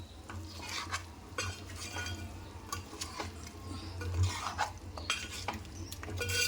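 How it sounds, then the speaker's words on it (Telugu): Ginger paste frying in a pan for a country-style chicken curry, with steady stirring scrapes and utensil clinks against the pan over a low sizzle, close and continuous. "అల్లం పేస్టు పచ్చివాసన పోయే వరకు ఫ్రై చేసుకోవాలి"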